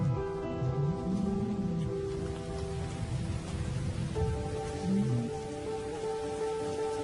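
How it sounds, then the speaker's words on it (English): Steady rain falls across the open savanna as a storm breaks, a dense, continuous hiss filling the scene, with lower rumbling tones and murmuring sounds beneath it throughout. "As the storm breaks,"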